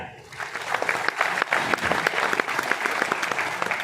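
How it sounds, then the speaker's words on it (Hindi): An audience at a business presentation in Pune applauds a presenter, with dense, steady clapping from many people at close range and a faint voice underneath. "इनके लिए एक बार तालियां"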